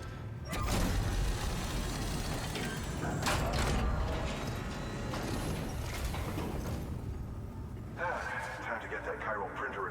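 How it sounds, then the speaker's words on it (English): A chiral printer is repaired in the game Death Stranding, with rattling mechanical clunks, ratcheting and sliding whirs that come in bursts over a steady background, and a shift to a brighter electronic tone near the end. "Time to get that chiral printer in working order."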